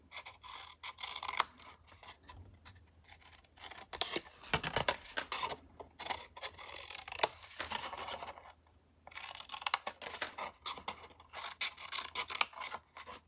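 Scissors cutting paper pieces at an angle for a card-making craft, with a series of quiet snips and rustling paper, close and soft, with no talking.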